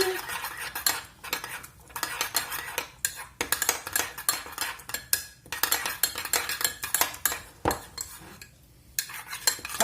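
A spoon stirs soy cream around a dish, producing steady, close scraping and clinking of metal against the dish in quick repeated strokes with brief pauses, with no talking.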